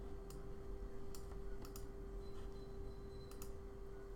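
Mouse clicks from a computer in a quiet room, a handful of sharp isolated clicks spaced irregularly over a steady electrical hum.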